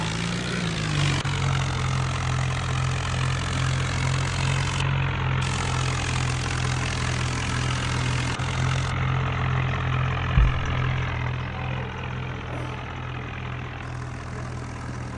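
A Swaraj 963 tractor engine in a video game idles with a steady, low droning hum throughout, briefly changing pitch early on with small shifts later, and no voices.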